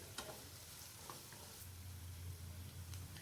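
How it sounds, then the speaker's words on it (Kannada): Onions roast in a pan over a medium flame with a faint, steady sizzle under a low hum, broken by a few soft clicks and stirring taps. "ಈರುಳ್ಳಿನ ಹಾಕಿ ಈರುಳ್ಳಿ ಬ್ರೌನ್ ಕಲರ್ ಆಗೋವರೆಗೂ 1-2 ನಿಮಿಷದಷ್ಟು ಟೈಮು ಮೀಡಿಯಮ್ ಫ್ಲೇಮಲ್ಲಿ ಚೆನ್ನಾಗಿ ರೋಸ್ಟ್ ಮಾಡ್ಕೊತಿದ್ದೀನಿ"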